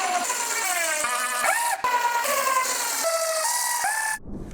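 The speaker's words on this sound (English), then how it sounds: "Now I need to put some screws in at the bottom to hold that bottom in place." A power drill drives screws into the bottom of a cedar planter box in a few short whirring runs whose pitch climbs and dips, with brief pauses between them, close and loud, ending in a soft thud.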